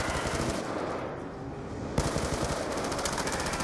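Continuous automatic gunfire in Call of Duty zombies, Mob of the Dead, a loud, steady rapid rattle of shots filling every moment with no break.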